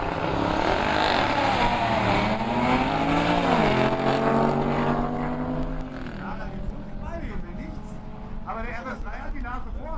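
Mercedes E63 S AMG and Audi RS3 launching side by side on a quarter-mile drag strip, loud roaring engines rising in pitch through gear changes, steady and close, with a commentator talking over it.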